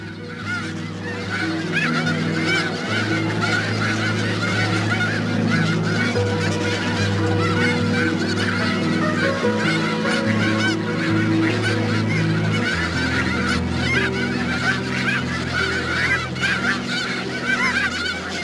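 A large flock of snow geese honks continuously, a dense overlapping chorus of calls from many birds at varying distances.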